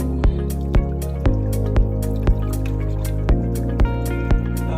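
Milk being whisked in a bowl while making a garlicky whole wheat linguine, heard as a steady run of sharp, regular ticks and clinks of the whisk, about two per second, close and fairly loud with no talk.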